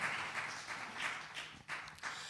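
A church congregation applauding during a sermon, a steady patter of many hands clapping at moderate volume with a few sharper claps standing out.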